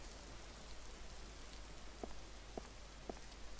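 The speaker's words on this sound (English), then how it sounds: "This rain looks so realistic." Steady rain hisses through a horror video game scene, a continuous soft wash of falling drops with a few faint patters standing out over the noise, no voices.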